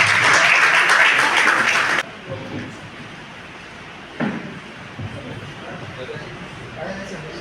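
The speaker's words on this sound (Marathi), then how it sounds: "पुन्हा एकदा जरा जोरदार टाळ्या होऊन जाऊ दे." Loud, dense applause from an audience at a book launch ceremony fills the first two seconds, then drops away abruptly, leaving quiet room noise with a few faint knocks and a voice speaking.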